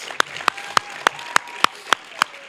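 At an athletics end-of-year banquet, crisp claps land one after another in an even, fast rhythm, about eight sharp close hits over a faint background.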